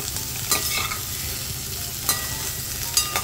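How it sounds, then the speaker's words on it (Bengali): Potato and cauliflower being stirred with salt and sambar powder in a pan, a constant close sizzle punctuated by a few sharp scrapes of a spoon against the pan, no talking. "আবার ভালো করে সুন্দর করে নেড়ে চেড়ে এই মশলাটা ভালো করে এর মধ্যে মিশিয়ে দেবো।"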